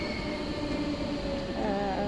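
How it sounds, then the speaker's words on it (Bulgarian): A train rumbles past with a steady roar and a faint squeal of its wheels. "Има влак, може би няма да се чува добре"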